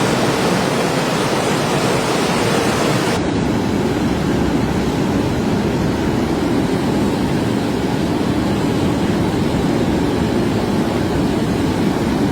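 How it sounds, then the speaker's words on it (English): A flash flood with mudflow rushing through Telavi, Georgia, as a loud, constant roar of churning water that fills the scene without a break or any voices. "A catastrophic flash flood triggered by unprecedented torrential rainfall and subsequent severe mudflows"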